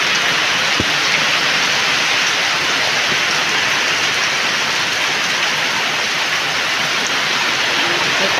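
Heavy rain pours down steadily, a dense, loud hiss of water striking surfaces that continues without pause.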